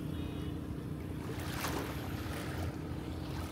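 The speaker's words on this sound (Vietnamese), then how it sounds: "sông biển rì rào luôn." Sea waves at Tân Thành beach, a silty brown-water shore with a seawall, wash steadily and continuously under gusting wind, with a low rumble that may include a passing motorboat.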